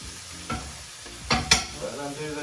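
Prawns fry in a hot pan with a soft continuous sizzle, broken by a few sharp scrapes and clinks as they are stirred.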